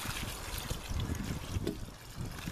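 Water poured from a watering can around a newly planted arum, a steady close trickle and splash onto soil lasting throughout.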